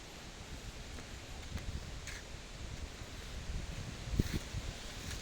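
Strong wind rustles leaves along a rocky forest trail in Kut Chum, Yasothon, a continuous breathy rush with a few soft crackles and gusts, no voices.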